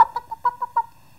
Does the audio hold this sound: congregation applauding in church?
no